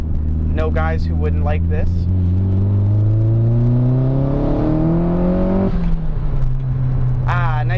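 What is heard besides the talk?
SR240 car accelerating hard in second gear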